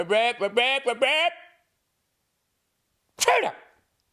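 A short, sharp sneeze burst follows a pause of silence, after a few seconds of speech-like vocalizing.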